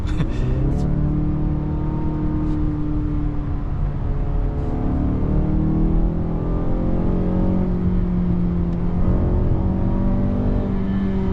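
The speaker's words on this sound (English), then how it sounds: "the engine sound is also good" A 2026 Mazda CX-5 engine accelerating through the gears, a loud, close, steady engine drone with rising pitch sweeps as it climbs between shifts.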